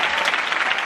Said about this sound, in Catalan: sisplau un fort aplaudiment per treure'ns els nervis